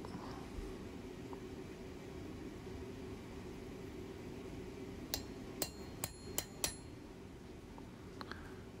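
A small chasing chisel is tapped with a hammer into metal during blacksmith work, giving a short run of five sharp, ringing strikes after a steady background hiss, then a couple of fainter taps.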